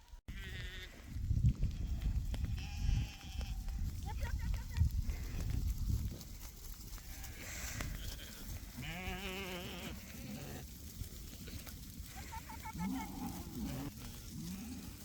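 Sheep bleating as a flock is moved to a new pasture on a Russian farm, several overlapping calls near and farther off over rustling and footsteps, with a person speaking now and then.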